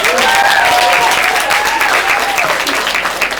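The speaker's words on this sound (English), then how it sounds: "How about another round of applause for all of our models?" Sustained applause from an audience at a fashion show, honoring the models, holding steady and loud with some tonal noise over it before tapering slightly at the end.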